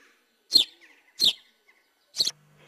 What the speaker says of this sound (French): troglodyte mignon.